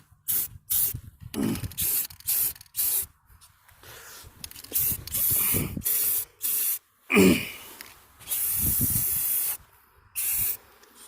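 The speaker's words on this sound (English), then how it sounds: "this happens to be Fix-All spray enamel, but I guess paint is all it is" Fix-All spray enamel paint sprays onto an outdoor yard faucet joint in a series of short hissing bursts, some clipped, one long, broken by quiet gaps, close to the microphone.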